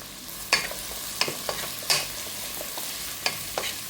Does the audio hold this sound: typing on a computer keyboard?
no